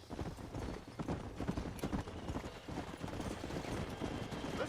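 Galloping horse hooves in Red Dead Redemption beat in a steady, fast clip-clop rhythm, loud and close, over a continuous noisy bed of game sound.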